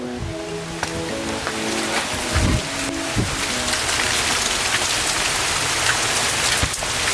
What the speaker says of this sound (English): it's about to pour down rain.